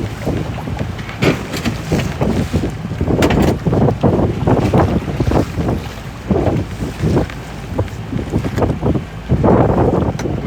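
Wind gusting across a stone crab fishing boat at sea off the Florida Keys, with loud buffeting surges and rushing noise that rise and fall irregularly.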